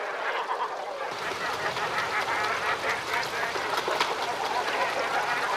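Cormorants feeding in the Volga Delta make a dense, continuous chorus of harsh croaking and honking calls, loud and close, with many birds calling at once throughout.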